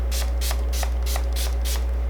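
Cucumber-infused makeup setting spray released in six quick, evenly spaced hissing mist bursts over a steady low hum, close and alone with no talking.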